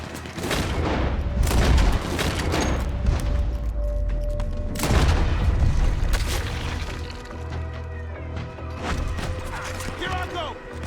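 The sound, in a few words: gunfire in video game Red Dead Redemption 2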